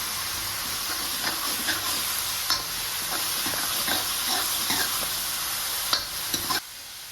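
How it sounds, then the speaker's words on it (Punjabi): Onions for a spiced pumpkin curry fry in a pan with a steady hiss, while a spoon stirs and scrapes in irregular strokes. The sizzle cuts off abruptly near the end. "ਦੋ ਮਿੰਟ ਲਈ ਆਪਾਂ ਪਿਆਜ਼ ਨੂੰ ਭੁੰਨਾਂਗੇ"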